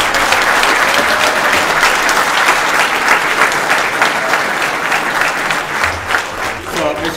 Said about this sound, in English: let's give a round of applause for Mr.